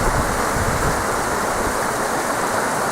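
Steady, broad rushing waterfall roars continuously at close range near abandoned mine buildings at Cwmystwyth, a dense hiss with no pauses and no voices.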